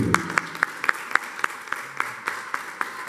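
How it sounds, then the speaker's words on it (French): Guests clap at a wedding celebration, a few rhythmic, evenly spaced hand claps close by, keeping a steady beat throughout. "On va applaudir aussi vous"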